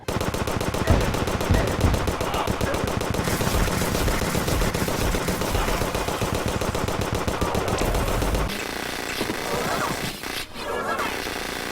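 Venus Magnum firing chlorophyte bullets in Terraria during a Lunatic Cultist fight, a dense, rapid, unbroken stream of shots with game effects layered over it, then a brief change before steady firing resumes.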